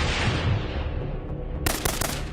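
Bursts of gunfire and bomb-like blasts as a sound effect: a dense low rumble of explosions gives way to rapid, loud machine-gun style volleys crackling in quick succession.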